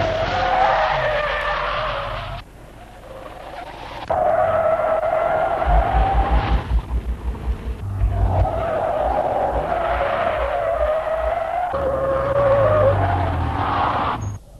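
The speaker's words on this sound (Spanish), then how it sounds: "bruscos frenazos que producen normalmente el bloqueo de las ruedas delanteras o traseras y dan lugar a derrapes" A car's tyres squeal and skid under hard braking with locked front or rear wheels, several long screeching bursts separated by short gaps, loud and close, with engine noise behind.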